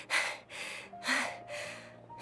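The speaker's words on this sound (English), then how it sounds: "Heavy panting." A character in Genshin Impact panting heavily, four loud breathy gasps in an even rhythm, each rough exhale followed by a short pause, close and alone.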